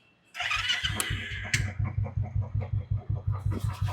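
A customized Jawa bobber motorcycle fires up on its electric self-start: a brief whirring crank, then the engine catches and settles into a loud, close, rhythmic thumping idle.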